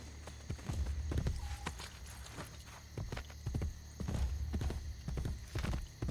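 Horse hooves clip-clop in a steady walking rhythm in Assassin's Creed Brotherhood, fairly close, with a faint whinny and light background game ambience.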